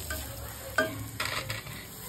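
Grated fresh turmeric is stirred and sautéed in a pan for finger millet soup, giving a soft sizzle with a few sharp spatula scrapes, fairly quiet and close.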